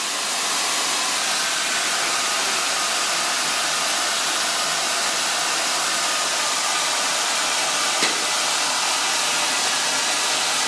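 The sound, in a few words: hair dryer drying hair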